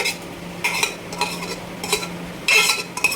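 Green peas are tipped into a pan for ghugni, making several close, loud bursts of rattling and scraping as the spoon pushes them around. No voices are heard.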